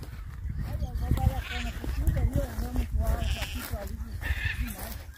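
Sheep bleat repeatedly on a small rural farm, several wavering calls close by, overlapping with ambient noise and occasional background voices.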